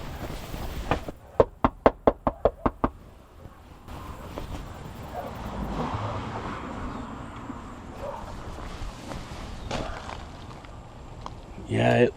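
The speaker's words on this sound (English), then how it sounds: "I always like to knock on the door just to make sure before I start these." Knocking on the door of an overgrown, seemingly empty house, a rapid series of about nine sharp, loud raps, followed by quiet outdoor ambience and faint footsteps.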